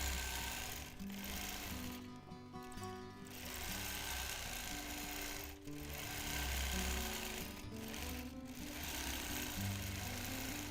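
Sewing machine stitching free motion quilting along chalk guidelines, a continuous fast mechanical whirring and rattling that slows briefly a few times and then picks back up, close and steady.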